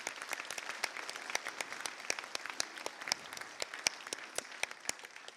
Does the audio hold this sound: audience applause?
yes